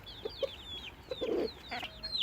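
Silkie and Pekin bantam cross chickens cluck in a short burst of soft, close clucks mixed with high chirping peeps from chicks, with no talk.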